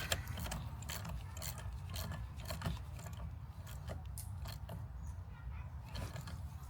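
Quiet, rapid ratchet clicking repeats continuously as a tool tightens a nut while installing a 12V battery disconnect switch, with a low mechanical hum underneath.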